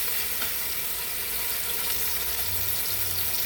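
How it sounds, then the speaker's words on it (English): Pot roast searing in a hot pan, a steady loud sizzle and frying hiss throughout with faint low rumble beneath, no talking. "Got this other side seared now."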